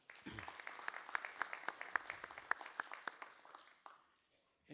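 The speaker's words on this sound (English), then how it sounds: "A good round of applause." Applause from a conference audience at a parliamentary budget office gathering in Africa, a dense patter of claps with sharper individual hits, steady for about four seconds before fading out, followed by a brief voice at the end.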